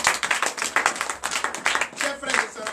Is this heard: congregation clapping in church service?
yes